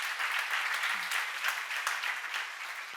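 A church congregation at a JCA seminar claps in sustained, lively applause, many hands together at close range, with a brief murmur of voices underneath.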